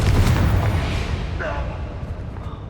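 A Confringo blasting spell goes off in Hogwarts Legacy, a loud rumbling burst at the start that decays into a fading crackle, with a voice briefly heard midway.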